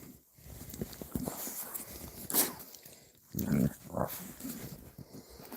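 A dog snuffles and moves around close to the microphone on a relaxed outdoor weekend, with soft sniffing, faint whimpers and footstep rustles scattered through quiet ambience.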